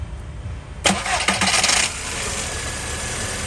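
An LPG-fitted car engine cranks briefly with a few clattering starter bursts, then catches and settles into a steady idle hum.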